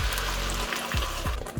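Tomato sauce blend simmering in olive oil for homemade pepperoni pizza, a soft continuous sizzle with a few brief stirring knocks near the end.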